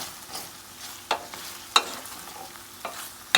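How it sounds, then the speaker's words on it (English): Grated garlic and ginger being stirred in a pan, a faint sizzle beneath occasional sharp scrapes and taps of the spoon against the pan. "So I'm gonna go in with my grated garlic, grated ginger. We're gonna mix this in."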